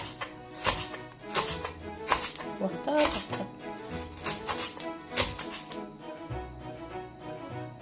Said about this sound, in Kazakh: Капустамызды соломкой етіп тураймыз.